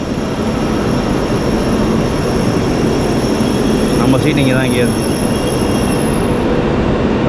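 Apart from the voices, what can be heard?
high-speed bullet train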